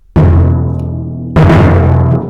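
Two loud, punchy percussion hits, each ringing out and decaying, the second struck with a sharp accent about a second after the first.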